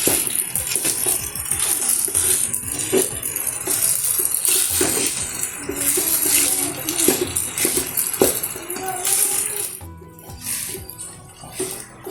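Kongunadu-style thevaiya maavu flour mixture is poked and stirred repeatedly in a pan. The metal scrapes and clatters constantly, loud and close, with busy irregular knocks that ease off near the end. Nobody speaks over the cooking noise.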